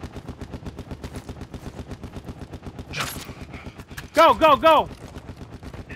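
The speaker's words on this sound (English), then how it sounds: "Oh, he's gonna shoot the shit out of you, bro." Rapid automatic gunfire rattles in rhythmic bursts in the Modern Warfare 2 video game on PS5, staying steady and close while a player shouts briefly and a few loud tonal game effects cut in.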